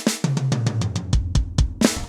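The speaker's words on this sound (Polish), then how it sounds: "w tym momencie dźwięk, który słyszycie z perkusji" Electronic drum kit played in a quick pattern: crisp hi-hat and cymbal hits over punchy kick and snare, clean and close.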